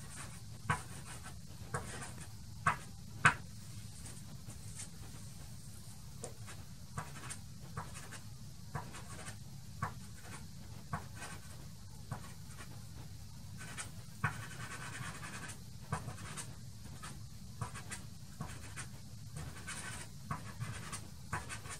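Pastel sticks make soft, repeated downward strokes on paper while painting river reflections, a faint scratchy rhythm of short rasps in a quiet room.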